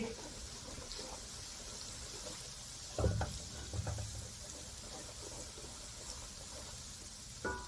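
Ginger-garlic paste fries in a kadai for dhaba-style chana dal, a low, steady sizzle with a couple of louder stirring clatters partway through.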